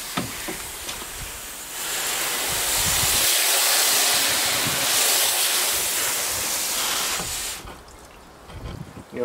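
Water runs and splashes loudly and steadily, rinsing bleach from a Roadtrek Popular RV water system; the flow swells for several seconds and then drops away to quieter trickling near the end.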